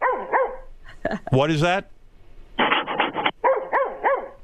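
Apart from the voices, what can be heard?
dog barking in the studio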